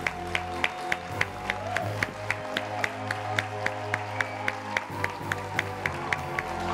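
On a French TV show paying tribute to a late artist, the studio audience claps in a steady, evenly spaced rhythm over a sustained musical backing.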